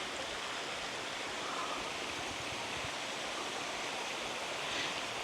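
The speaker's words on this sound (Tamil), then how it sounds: "இந்த மாதிரி தண்ணி அப்படியே பாறை வழி சல்லு சல்லு சல்லு சல்லு சல்லுன்னு இறங்கி போகுங்க" Water from a waterfall stream near Kurangani in Tamil Nadu spilling down over rocks, a steady, dense rushing wash that holds even and continuous throughout, close by and alone with no voices.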